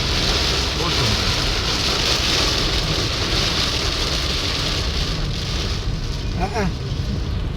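Heavy rain roars over a jeep driving along the Sattur to Madurai highway in India, a constant loud wash of water and road noise, with a brief voice near the end.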